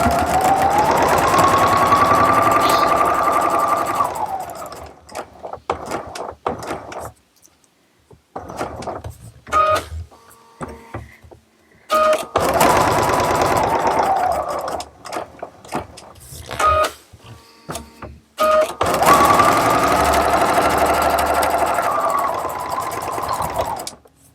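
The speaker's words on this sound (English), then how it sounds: "And then we'll sew this little piece." Sewing machine stitching a small piece of rubbery shelf liner, running in three long steady bursts separated by quieter handling and fabric shuffling, close and loud.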